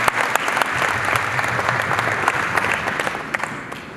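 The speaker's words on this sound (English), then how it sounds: "Can you clap for the Ministry of Agriculture?" Audience at an agribusiness conference session applauding, a steady wash of many hands clapping with scattered sharper claps, moderately near and sustained throughout.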